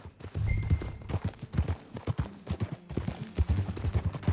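Horse hooves clip-clop steadily at a ride in Red Dead Redemption 2, a quick, close and fairly loud beat that goes on throughout, with faint background noise.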